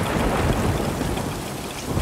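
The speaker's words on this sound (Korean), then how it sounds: "꽤 굵직한 빗방울이 쏟아지던 한밤중에" Heavy rain with large drops pouring down at night, a dense, steady, loud hiss of rainfall with no voices.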